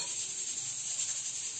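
Butter melting in a tray while making peanut-stuffed kunafa gives a faint, steady sizzle with a soft stirring hiss that runs evenly throughout, with no voices.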